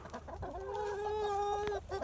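Chickens of several breeds, Laced Wyandottes, Rhode Island Reds and Jersey Giants, on a farm property, with one hen's loud, drawn-out cluck lasting over a second amid softer background clucking from the flock, no voices.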